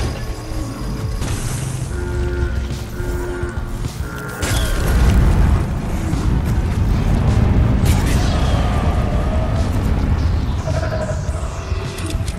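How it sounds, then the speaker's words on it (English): A cargo rocket launches in the video game Deep Rock Galactic, a deep rumbling roar that swells into a sustained loud blast and holds steady, with machinery creaks and faint voices in the mix. "Rocket launched."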